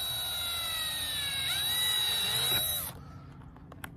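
Power drill boring through plastic cupholder trim in a Toyota Tundra, a loud steady high-pitched whine with the motor pitch sagging under load, then stopping abruptly near three seconds.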